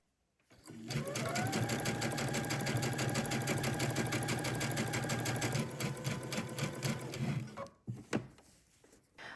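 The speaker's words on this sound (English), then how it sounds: "Identify a point on your presser foot and then just go ahead and sew your hem. I'm using a twin needle again." A home sewing machine fitted with a twin needle runs a hem in one steady six-second stretch, a close rhythmic whirring chatter that stops abruptly, followed by a few handling clicks and knocks.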